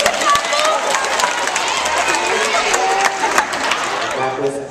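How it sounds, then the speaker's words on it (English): Schoolchildren at Holy Name School clap together for a chinchilla during an animal visit, a bright, steady wash of many small hands under excited crowd chatter throughout. "Everybody clap for her."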